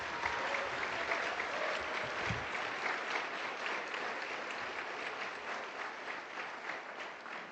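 A school of education commencement crowd gives graduates a final round of applause, steady and full from start to finish, heard from within the hall at moderate distance.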